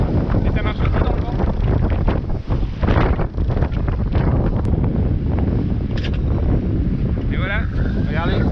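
Strong wind blows across a sailboat, roaring steadily into the microphone with faint rigging and water sounds beneath, while a person talks over it.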